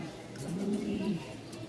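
Lahori pigeons at a pigeon market give one low, throaty coo lasting about a second, over a steady murmur of market background noise.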